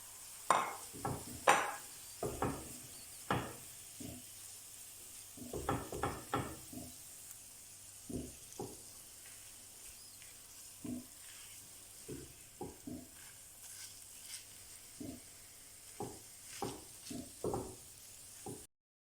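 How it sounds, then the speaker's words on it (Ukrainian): Minced meat sizzles with onion in a pan, fried as cannelloni filling, while a utensil repeatedly knocks and scrapes against it in irregular bursts. "До цибулі вкидаємо фарш та жаримо 5 хвилин"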